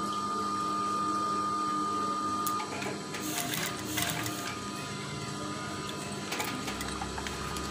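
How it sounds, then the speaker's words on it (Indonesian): A sewing machine stitches curtain fabric in a steady, continuous mechanical whir that runs loud and unbroken throughout, with a faint tonal hum underneath. "Kita jahit ya."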